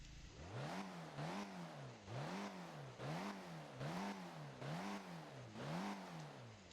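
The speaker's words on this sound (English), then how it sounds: "and of course, you see some revs" A Volvo PHEV car in the Roblox game Driving Empire, 455 horsepower, revs repeatedly in steady cycles, its engine tone sweeping up and down about six times in a row, fairly faint and alone.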